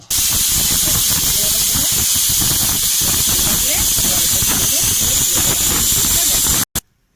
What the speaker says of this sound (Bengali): তো জলটা ঝরানো হয়ে গেছে, খুবই গরম, হাত দেওয়া যায় না।